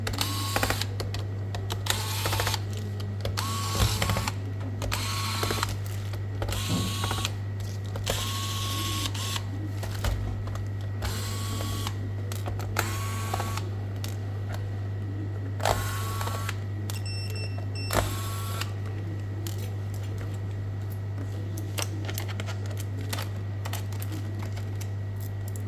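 Screws come out of a Lenovo Ideapad L340 gaming laptop as a screwdriver works through them, giving scattered small clicks and scrapes close up over a steady mechanical hum. No one speaks.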